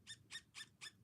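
A Copic marker squeaks rhythmically across paper while coloring, with five quick back-and-forth strokes, close and clear in a quiet room.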